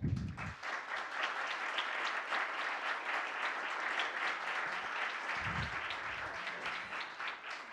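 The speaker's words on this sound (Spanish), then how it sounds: "José Ramón Cosío Díaz, para quien pido un aplauso, por favor." A crowd applauds steadily, a dense roomful of clapping hands that holds at an even level throughout, with a brief low rumble near the start and middle.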